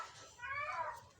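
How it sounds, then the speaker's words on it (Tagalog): A black cat lets out a short, strained, angry meow indoors at a house, faint and brief with a low background murmur. "Nagalit yung pusa."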